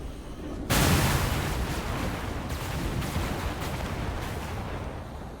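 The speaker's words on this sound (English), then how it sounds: "So we're going to blow them up" A sudden loud blast opens a long rolling barrage of explosions during an attack in the strategy game Total War: Warhammer 2, dense rumbling booms that slowly thin out.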